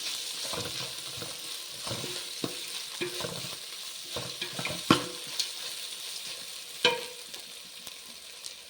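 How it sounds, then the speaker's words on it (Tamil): Onions sauté with ginger and garlic in a pan, a soft continuous sizzle broken by repeated scraping and clacking strokes of a spatula, close by with a couple of sharper knocks and no talk. "இஞ்சி பூண்டு பச்சை வாசனை போடுங்க வெங்காயம் இந்த மாதிரி வதங்கணும்"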